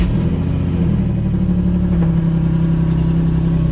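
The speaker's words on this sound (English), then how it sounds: "So what you're gonna wanna do is start your car." A Nissan 370Z engine settles into a steady idle with a low throbbing hum after starting, loud and close, with the pitch dipping slightly partway through and no voices.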